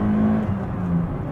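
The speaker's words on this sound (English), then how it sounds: "this engine just revs for days." Engine of a first-generation Toyota MR2 with a 16-valve twin-cam four-cylinder, revving smoothly and steadily, heard close and loud from inside the car with a sustained hum.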